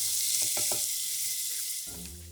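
Smoked bacon, onion and mushrooms sizzle steadily in a hot pan, a close broadband hiss with a few soft crackles and a low clunk of cookware near the end.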